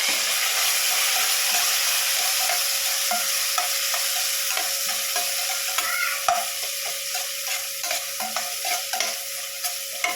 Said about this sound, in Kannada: ಇವಾಗ ಈರುಳ್ಳಿ ಹಾಕೋಣ. ಹಸಿಮೆಣಸಿನ್ಕಾಯಿ, ಗ್ರೀನ್ ಬಟಾಣಿ ಹಾಕೊಳ್ಳೋಣ. ಇವೆಲ್ಲ ಬಾಡಿಸ್ಕೊಳ್ಳೋಣ ಚೆನ್ನಾಗಿ.